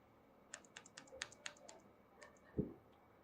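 Quick bursts of keystrokes on a computer keyboard, a dozen or so close, crisp clicks in an uneven rhythm, ending with one heavier thump like an enter key.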